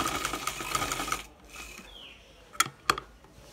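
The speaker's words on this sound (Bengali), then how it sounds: "এখন উপর পর্যন্ত জাস্ট এই নিয়ম অনুযায়ী সেলাই করে নেব" A sewing machine stitches the side slit of a silk kameez in a fast steady whir, then stops, followed by a couple of sharp clicks of the mechanism.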